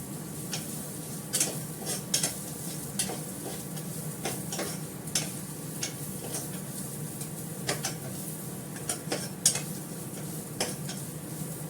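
Grated carrots with raisins and cashews frying in a pan, a steady sizzle crackling throughout with frequent sharp ticks and pops in an irregular rhythm, close and moderately loud.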